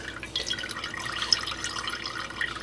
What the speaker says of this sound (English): And I'm just straining it.